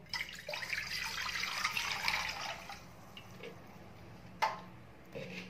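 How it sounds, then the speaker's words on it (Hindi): Water pouring into a cooking pot for making sponge rasgulla, a steady splashy stream that fills the first half, then fades to a quiet background with a sharp clink partway through. "सबसे पहले हम पतीले में 3 कप पानी डालेंगे।"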